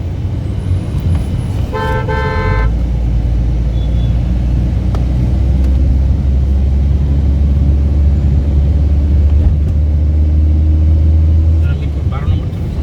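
Car traffic on a city road in Mirpur, Dhaka: a steady, loud low engine and road rumble runs throughout, broken by a short horn toot near the start.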